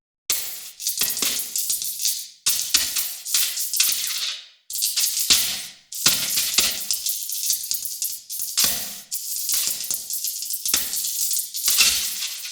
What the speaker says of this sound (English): Maybe you want to convey malfunctioning or broken machinery.